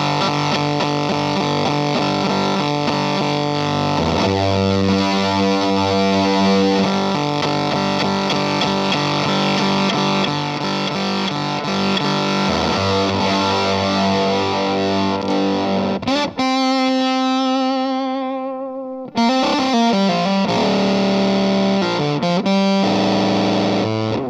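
An Earthquaker Devices Fuzz Master General octave fuzz pedal is swept through its gain range on a played instrument, giving loud, thick distorted notes that grow harsher, with a brief sputtering, decaying gated stretch near the end before full fuzz returns.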